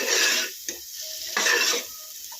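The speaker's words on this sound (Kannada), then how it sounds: "ಈ ಥರ ನೀಟಾಗಿ ಫ್ರೈ ಮಾಡಿಸ್ಕೊಳ್ಳೋಣ" Sambar masala being fried and stirred in a pan, with bursts of sizzle and scraping strokes separated by short quieter pauses, close and fairly loud.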